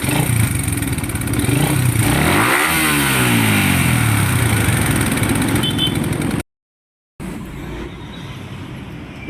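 A freshly refreshed motorcycle engine with a faulty part, still noisy, revs loudly and roughly, rising and falling in pitch, then cuts out briefly before resuming at a lower, steady idle.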